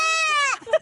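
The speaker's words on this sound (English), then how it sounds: "It's actually a baby and a goat." A goat and a baby hollering together: a loud, drawn-out bleating cry lasting about half a second, followed by a brief softer squawk.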